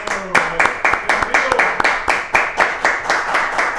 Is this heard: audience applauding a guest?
yes